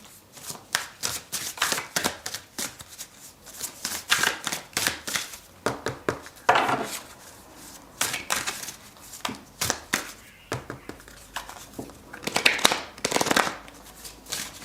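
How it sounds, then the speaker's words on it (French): Oracle cards are shuffled by hand in a long run of quick, crisp riffling bursts with brief pauses between them, close and clear with no talk. "on va prendre l'oracle de la magie pure et on va tirer ces 3 cartes ensemble"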